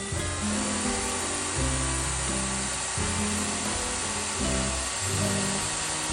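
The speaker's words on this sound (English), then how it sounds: "Time I get done drilling 4 holes in it" Power drill with a wood bit boring holes into the metal part of an old chair, a whining motor that grinds on steadily and swells and dips as pressure changes, close and alone.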